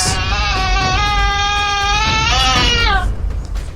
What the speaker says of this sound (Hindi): साथ में वही रोने की आवाज